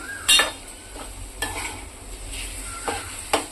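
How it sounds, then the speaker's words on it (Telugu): Fish pieces in a pan are gently stirred after water is added, giving soft scraping and clinks of a utensil over a low bubbling sizzle, close and intermittent. "జస్ట్ ఒక్కసారి అలా కలుపుకుని వాటర్ వేసుకున్నాం"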